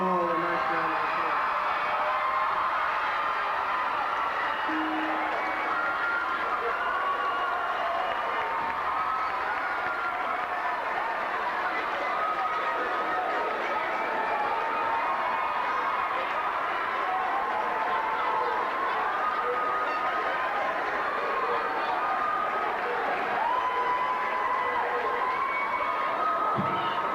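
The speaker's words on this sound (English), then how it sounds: "Let's give them all a nice round of applause." A large graduation crowd applauds and cheers for the class of 1997, a steady wash of clapping and voices that holds for the whole stretch at a moderate, distant level.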